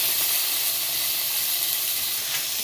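Tomatoes and fennel seeds fry in oil over a low flame, giving a steady, close sizzling hiss that carries on evenly with no talk.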